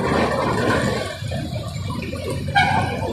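Water gushing out of a clogged gutter drain outside a biryani shop, a continuous close rushing flow that thins briefly before surging again.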